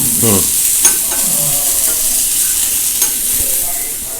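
Cashews, apple and banana fry lightly in a pan, giving a loud, constant close sizzle with a few soft stirring knocks and clinks scattered through it.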